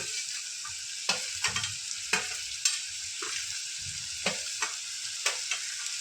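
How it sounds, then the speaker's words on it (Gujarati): Mixed vegetables sizzle and fry in a pan after chopped cabbage goes in, a constant bright hiss broken by repeated scraping stirs at irregular intervals. "હવે એમાં આપણે કોબીજ ઉમેરી દઈએ"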